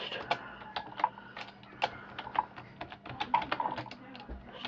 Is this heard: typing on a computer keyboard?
yes